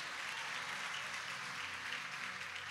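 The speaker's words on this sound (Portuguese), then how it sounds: "Pode dar um glória a Deus e aplaudir Jesus mesmo." Steady applause from a church congregation, dense and even throughout, with no voices standing out above the clapping.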